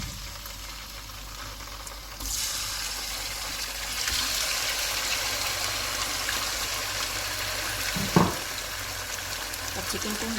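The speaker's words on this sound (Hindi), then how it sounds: "अब चिकन को हम ऑयल में फ्राई करेंगे।" Chicken pieces for Shinwari chicken karahi sizzle in hot oil, a steady loud frying hiss that swells after the first couple of seconds, with a brief clatter of stirring near the end.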